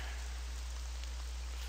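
Steady rain pours in a camp area of the video game Devil Hunter: Seeker of Power, a constant even hiss of drops that stays loud and unbroken throughout with no voices.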